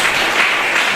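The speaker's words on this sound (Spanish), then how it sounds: "Vamos a darle un fuerte aplauso al Señor." Church congregation at a Spanish-language service applauding, a brief loud wash of dense clapping with no gaps.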